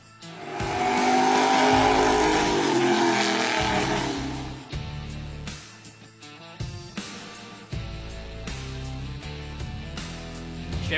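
Sportsman race cars run on an urban circuit during preliminary tests for the Défi Urbain Chevrolet. A loud engine roars close by as a car passes, then fades into revving, shifting and tire noise from cars further off.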